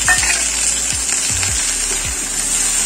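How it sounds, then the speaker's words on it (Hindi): Onion, garlic and tomato sauté in a pan with a constant bright sizzle, broken by a few low knocks and scrapes of stirring. "ये हमारा ओनियन और लहसुन सौते हो चुका है, अब इसमें टमाटर हम लोग"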